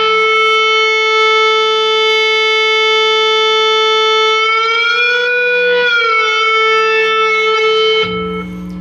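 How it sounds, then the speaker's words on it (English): Sustained electric guitar note held by an Ebow, a long steady singing tone that bends up a whole step midway and settles, loud and alone before cutting to a lower note. "And you're just going to place the Ebow on the second and fourth string."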